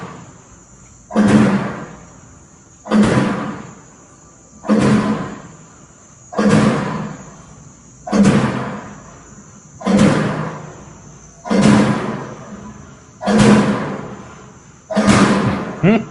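Eight doors slammed one after another at a steady pace of roughly one every two seconds, each a loud, close, booming thud with a short decaying tail, over a constant high-pitched hiss or whine in the background.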